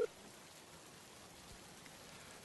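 Heavy rain as a stage sound effect in a student theatre play: a steady, even hiss of downpour, continuous and moderately quiet, with no voices over it.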